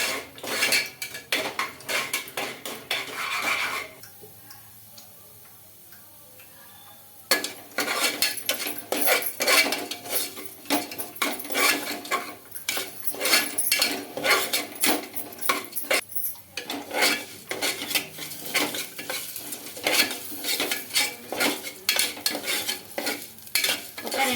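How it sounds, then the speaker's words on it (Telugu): Moong dal is dry-roasted in a pan with a metal spoon, producing dense, rapid scraping and clinking strokes nearly throughout, with a brief quieter pause early on. "పెసరపప్పునైతే ఫ్రై చేసుకోవాలి"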